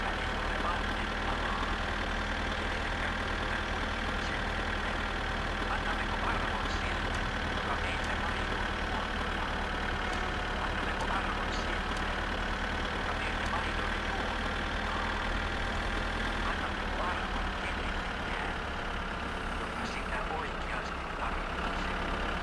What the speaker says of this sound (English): I come past with a tractor load of wood